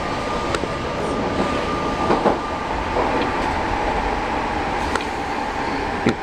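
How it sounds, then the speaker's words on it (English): A Class 317 electric train on AC electrification rolls steadily along the rails near London Fields with a loud continuous rumble, a faint electric whine, and occasional clicks from the wheels. "This train runs off AC electrification"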